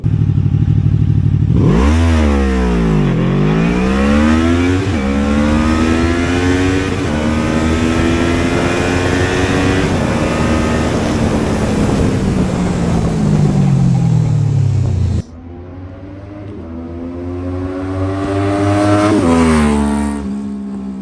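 A QJmotor SRV 600 motorcycle accelerates hard, loud and close, its engine rising through the gears with falling pitch dips at each shift, then easing and revving up once more.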